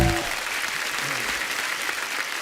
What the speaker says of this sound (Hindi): राज साहब के लिए जोरदार तालियां होनी चाहिए यार